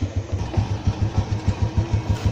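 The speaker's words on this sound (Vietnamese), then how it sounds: "Cái máy nổ ganti nó nhuyễn không, nó tròn ra luôn á nha anh em." A Honda Super Dream motorcycle engine idles smoothly, close up and alone, with a steady, even rhythm of low putters.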